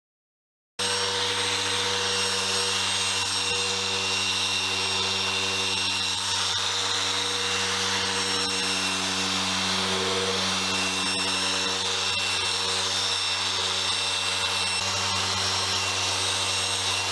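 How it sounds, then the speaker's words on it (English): A machine polisher works on BMW 1 Series car paint with a loud, continuous motor drone and steady whir that runs unbroken from start to finish. "make fantastic machines for polishing automotive paint"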